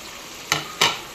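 Broiler chicken frying in a pan, a faint background sizzle broken by two short bursts of louder hissing as it is stirred.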